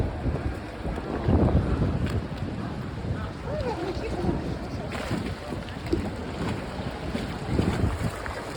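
Boats moving on the Grand Canal in Venice with wind buffeting the microphone, low motor rumble and lapping water continuing steadily throughout.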